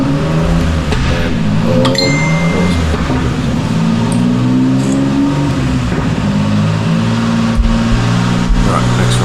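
A turbocharged car engine holds a steady, loud, droning pull on a dyno, running continuously with rising and falling tone for the whole stretch.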